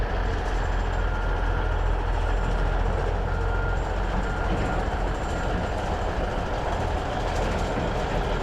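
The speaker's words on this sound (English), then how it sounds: "Here we have a truck coming in." A dirt-hauling truck at a civic center mall renovation site drives in, its engine a steady loud rumble throughout with no pauses.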